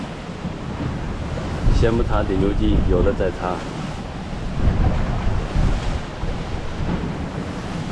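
Strong wind buffets the microphone and sea waves wash around a small fishing boat out on rough water, a steady roar throughout, with someone speaking briefly over it.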